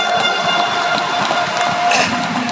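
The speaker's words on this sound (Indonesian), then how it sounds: "Aplaus buat tim Sahabat Karib" A seminar audience at ICE BSD in Tangerang, Indonesia applauds team Sahabat Karib with a dense, sustained wash of clapping and crowd noise. It is loud and fills the hall evenly, with no pause.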